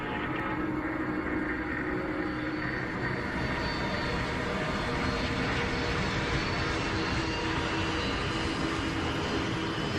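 A steady, dense roar from an Air India Boeing 747 jumbo jet taking off holds even and unbroken throughout, with no speech.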